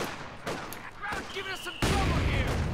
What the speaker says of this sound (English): it's starting straight away, by the way, with a smoke barrage, it seems